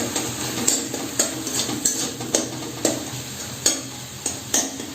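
A spatula stirs tomatoes and salt in a pan for dhaba-style mixed dal tadka, with regular scraping strokes about twice a second over a low, steady sizzle.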